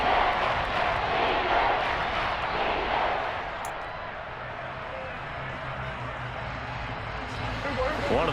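A stadium crowd in a Madden NFL football game roars steadily as a big third down approaches, a broad continuous wash of cheering that eases slightly midway, with commentary over it.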